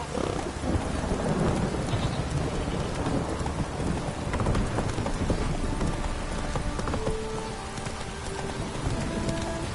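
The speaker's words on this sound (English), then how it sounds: "Want some rain?" Steady rain pours in a Witcher 3 game scene, a dense continuous hiss with rolling thunder rumbling underneath and brief tonal game sounds near the end, no talking.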